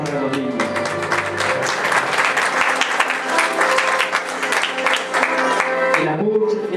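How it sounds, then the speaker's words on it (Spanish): Wedding guests in Cantel, Guatemala applaud steadily for several seconds, with a dense patter of clapping mixed with background music and some voices. "Fuerte los aplausos para los niños."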